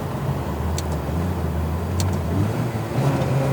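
A Ferrari 360 engine holds steady, loud and close, as gears are shifted without lifting off the throttle, its low drone barely dipping through each change.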